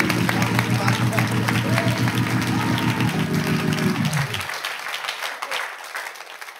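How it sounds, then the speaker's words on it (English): A church congregation applauds during a sermon, a dense, sustained burst of clapping from many hands that carries for several seconds before quickly dying away into quiet. "Clap your hands right now."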